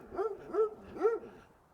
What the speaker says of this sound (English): You'll hear her start howling in a minute.